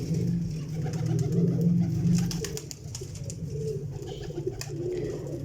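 Several pigeons coo close by in repeated low, rolling phrases, steady and fairly loud, overlapping one another with light clicks and rustles around them.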